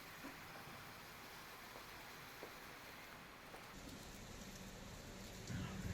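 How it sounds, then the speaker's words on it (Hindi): Steady rain falling in Jaisalmer, a continuous soft hiss of drops on surfaces, fairly faint and even throughout with no voices. "तो ये गिरती बारिश की बूंदें"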